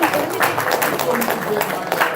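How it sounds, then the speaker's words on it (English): Audience clapping at a Black history tribute event, a thin and scattered round of applause mixed with a voice talking over it. "That hand clap sound kind of weak."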